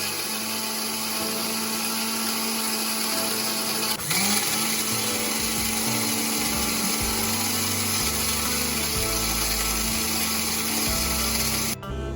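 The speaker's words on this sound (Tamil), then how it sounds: "இஞ்சி பூண்டு நல்லா அரைஞ்சிட்டு பாருங்கள்" A mixer jar grinding ginger and garlic into a paste drones loudly and steadily, its motor pitch shifting around the fourth second before cutting off near the end.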